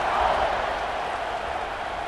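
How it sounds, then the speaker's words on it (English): A large stadium crowd in the college football video game EA Sports College Football 26 buzzes after a score, giving off a steady, dense, wide roar of cheering with no distinct individual voices. "this crowd is buzzing after that last score"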